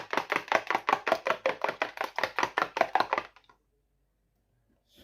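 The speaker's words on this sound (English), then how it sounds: "Then I'll mix this. I'll whisk it really well." Eggs and salt whisked briskly in a bowl: about three seconds of rapid, evenly spaced strokes, close and clear, then sudden silence.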